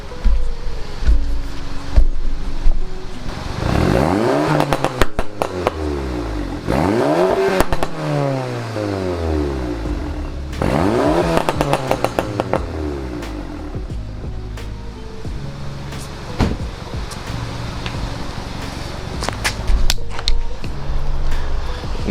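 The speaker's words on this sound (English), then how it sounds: "This exhaust clip is gonna be from my brother's GTI." Exhaust of a VW MK7 GTI with stage 2 tune, stock turbo and catless downpipe, revved up repeatedly in rising and falling sweeps, loud and close, with idle rumble between revs.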